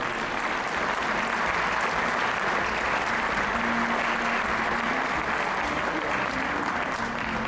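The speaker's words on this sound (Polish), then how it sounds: "Wielkie brawa, wielkie brawa." Crowd applause at the official opening of an ice arena in Tomaszów Mazowiecki, Poland; continuous dense clapping throughout, with voices murmuring underneath.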